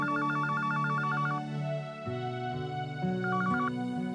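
A telephone rings with an incoming call: a repeating electronic ringtone of rapid trilling beeps over a sustained melodic tone, clear and continuous, with no talking.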